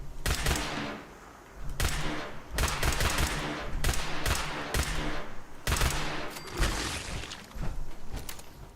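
A two-shot laser pistol repeatedly firing in Fallout 76, with sharp bright zaps arriving in quick clusters and short pauses between them, fairly loud and close.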